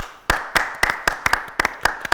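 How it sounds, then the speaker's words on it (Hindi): A small studio audience on a cricket World Cup talk show claps in sparse, uneven bursts, a handful of sharp distinct hand claps spaced irregularly rather than a full ovation. "तो मोहसिन के लिए तालियां"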